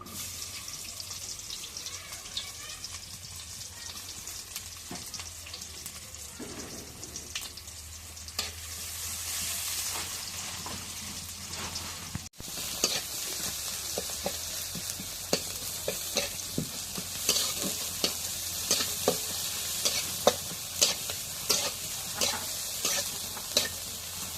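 Onions hiss and crackle in hot oil in a wok, the sizzle growing louder midway, with repeated scraping and clinks of a spatula stirring.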